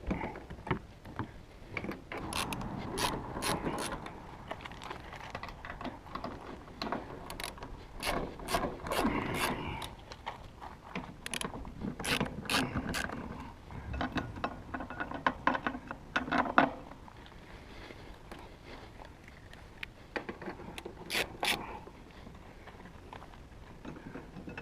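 A hand ratchet clicks in quick bursts while loosening bolts on a roof-top tent mount on a vehicle, close-up sharp ticking runs separated by pauses and light rubbing handling noise.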